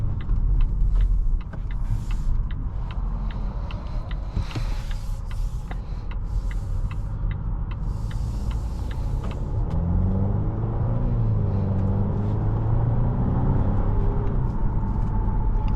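A 2025 Volvo S60 B5 Core accelerating on the road, a low muffled engine and road rumble from inside the cabin, steady throughout with a rising tone in the later part and some faint creaks.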